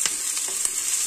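Onions fry in a pan for a gravy masala, a bright steady hiss of oil with a few light stirring taps, close and unbroken by any voices.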